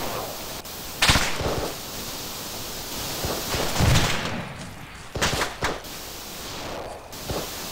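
Scattered gunfire in the ARMA 3 video game during squad training, several sharp distant cracks and short bursts spaced irregularly over a hissing background, fairly faint overall.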